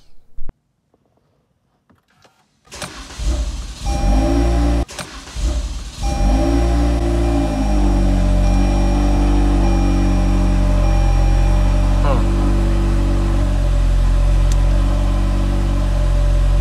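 A Toyota Camry XSE fitted with an AEM intake starts up after a quiet pause, cranking, then catching, then settling into a loud, steady idle close by, with a brief rev near the start.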